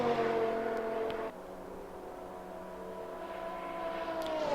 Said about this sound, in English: Really hear that engine scream as it comes flying past.